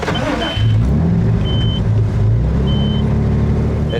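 A car engine idles and hums steadily up close, with a low rumble and a faint intermittent high beep.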